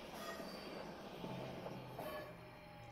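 A video-game train rumbles along with wheel squeals and faint rail clatter, steady and low in level, heard without speech.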